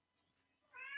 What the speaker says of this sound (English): That's a rare meow.